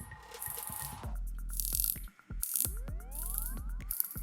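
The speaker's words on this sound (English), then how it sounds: "What I love about this new model is how the bezel action sounds." A Venezianico watch bezel is turned in a run of crisp ratcheting clicks, close and distinct, with a brief quiet gap partway through.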